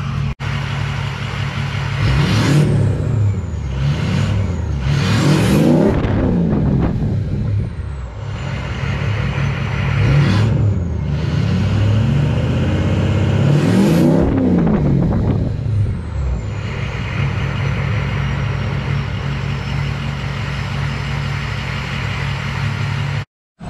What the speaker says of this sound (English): Let's give it the rev test in the performance setting